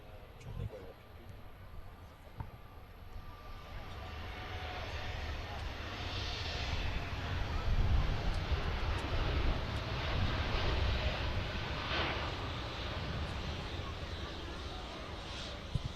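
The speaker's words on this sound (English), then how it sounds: "So there's the Etihad starts his roll there." Etihad airliner beginning its takeoff roll at Manchester Airport, a broad steady engine roar rising gradually and holding, somewhat distant under faint wind noise, with people talking.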